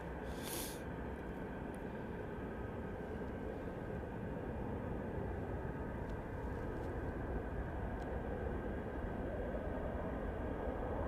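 Jet aircraft passing at Anchorage airport, a steady broad roar held loud throughout with a constant droning hum and a brief brighter burst near the start, no voices.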